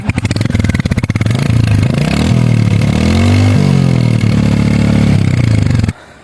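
A new motorcycle's engine starts with a push-button starter, then idles and revs up and down loudly and close by for about six seconds before it cuts off abruptly.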